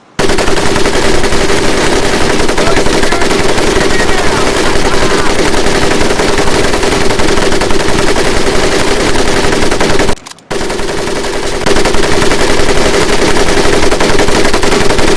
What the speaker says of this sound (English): The other will fire the weapon.